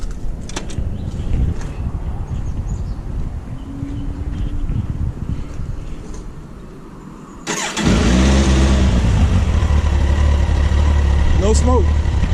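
A 2011 Kawasaki ZX14 motorcycle with about 12,758 miles fires up after a stretch of background noise. Its engine then settles into a loud, steady close-up roar with a brief rev near the end.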